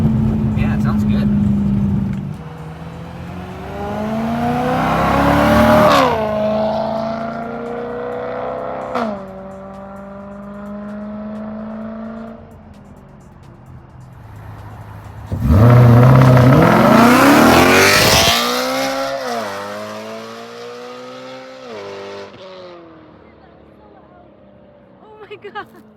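A BMW E92 M3 with a catless Valvetronic Designs X-pipe exhaust revs repeatedly, rising to loud, sharp, race-car-like peaks and then falling back to a steady idle, with people talking over parts of it.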